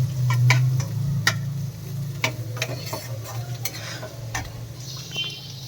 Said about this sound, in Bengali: পেঁয়াজ দিয়ে আলু দিয়ে ভাজবো